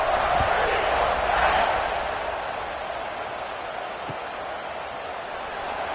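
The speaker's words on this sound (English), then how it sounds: "this crowd is buzzing after that last score" Crowd noise in a college football video game after a score: a broad, steady stadium roar that swells briefly then settles into a continuous murmur, with faint commentary-like voices mixed in.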